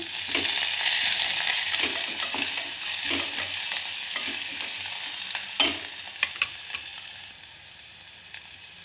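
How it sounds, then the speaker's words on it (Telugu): Onions fry in a pan while being stirred, giving a steady close sizzle with scattered scraping clicks from the utensil and no voices. "ఎర్రగడ్డలు వేసుకొని ఒక్కరగా వేయించుకోవాలన్నమాట"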